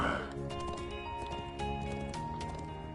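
In the Trails of Cold Steel IV video game, a wild horse eating flowers gives off soft hoof clip-clops and faint snorting beneath game music, with characters speaking over it.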